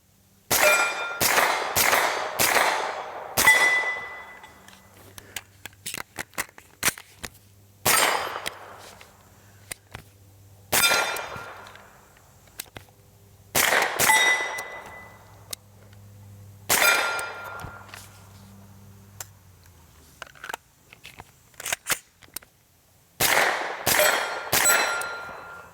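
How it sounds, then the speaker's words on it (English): A suppressed CMMG Mk17 rifle fires a series of sharp, loud reports in quick bursts and single shots separated by quiet pauses, each crack followed by a short ringing tail outdoors. "we're going to go ahead and pop a couple rounds here with it suppressed"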